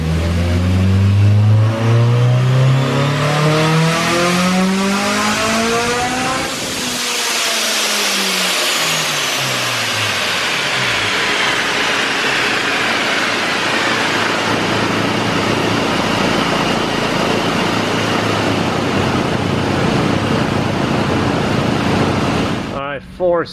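A Honda S2000 fitted with a custom exhaust revs loudly up through the range, then holds a sustained high, raspy engine roar at close range for a long stretch.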